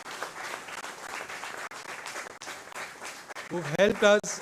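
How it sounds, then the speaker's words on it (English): An audience at a disability rights conclave applauds the interpreters with a steady patter of clapping, then a voice breaks in near the end as the applause continues. "put a round of applause to all the interpreters who are present here today"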